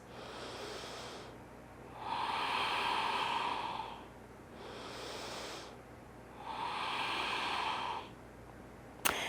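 Slow, deep breaths during a held prenatal yoga lunge, with three long airy inhale–exhale cycles drawn close to the mic in a quiet room.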